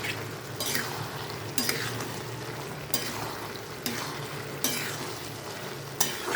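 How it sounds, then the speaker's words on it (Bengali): Prawns stirred into bottle gourd curry in a pan, a spoon scraping in repeated strokes about once a second over a steady close sizzle. "চিংড়ি মাছটা দিয়ে ভালোভাবে মিশিয়ে দেবো।"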